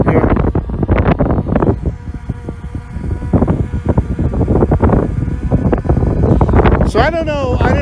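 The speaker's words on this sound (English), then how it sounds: "We had a good wind that just came up here." Wind gusting outdoors around a budget drone in flight, buffeting the microphone with loud, uneven rumbling bursts throughout, a high whine rising briefly near the end.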